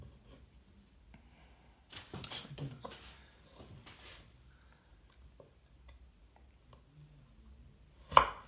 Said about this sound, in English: I'm guiding the placement of the knife as I cut down